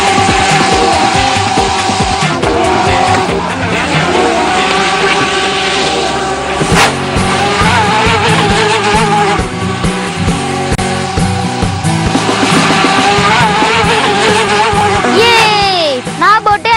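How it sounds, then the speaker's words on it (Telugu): A speedboat racing fast, its engine a loud, sustained roar with shifting pitch and splashing, while people talk over it throughout. "అరే మారుతి, నీ బోటు రాకెట్ కన్నా వేగంగా వెళ్తుంది."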